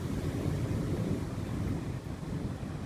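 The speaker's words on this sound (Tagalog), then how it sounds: "Pala malakas na hangin talaga at saka ulan" Strong wind and rain during a storm: a constant heavy rumbling roar of gusts and downpour, dense and unbroken throughout, with no voices.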